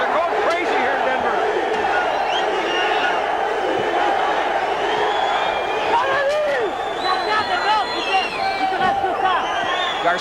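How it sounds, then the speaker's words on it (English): A boxing crowd in Denver roars and chants a fighter's name, Felipe, in a dense, sustained wall of voices with rising whoops and shouts throughout a 1980 bout. "Felipe is the cry from the crowd as they're going crazy here in Denver"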